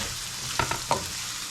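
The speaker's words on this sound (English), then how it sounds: "This saute smells really good." Black beans sautéing in a pan sizzle softly under a few quick scraping stirs of a utensil, close and gentle with no speech.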